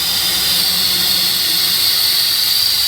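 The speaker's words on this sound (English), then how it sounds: "As you can see, this is leaking constantly." Compressed air hisses constantly from a leaking tow supply line on an MCI bus, a loud, steady, close high-pitched rush with no breaks.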